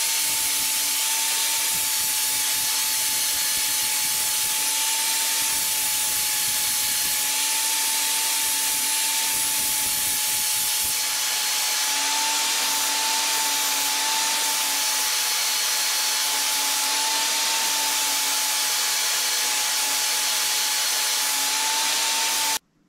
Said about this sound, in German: Weiter mit der Flex.